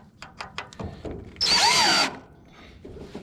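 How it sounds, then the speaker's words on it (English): A power drill whines in a short burst of about half a second during sickle replacement on a John Deere 1209 mower-conditioner, a high rising motor tone that starts after a few clicks and knocks of handling and ends abruptly. "So the drill is not working as well."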